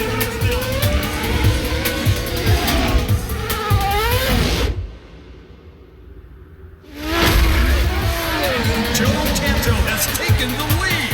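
Race cars roar through the final racing scene of the film Driven, loud engine noise with revving and tire sounds under a busy movie soundtrack, cutting to near silence for about two seconds midway before surging back.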